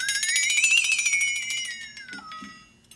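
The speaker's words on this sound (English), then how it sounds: "novelty sounds such as the flex tone" A flexatone's shimmering, rattling tone glides upward, then slowly sinks lower over about three seconds, with a rapid tremolo flutter throughout.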